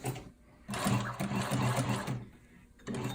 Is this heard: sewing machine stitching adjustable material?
yes